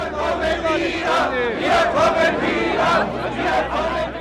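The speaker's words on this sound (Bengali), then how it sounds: "মানুষ জয়ধ্বনি দিয়ে বলছে আবার আমরা এক আবার আমরা এক" A large crowd at the fall of the Berlin Wall cheers and chants in rhythmic surges of many voices, loud and close, with shouting rising and falling over a background murmur.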